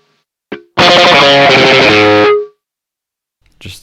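Electric guitar with fuzz distortion in a saturated tone: a dry muted pluck, then a loud sustained distorted chord riff of about two seconds that cuts off, with a faint noisy scrape at the end.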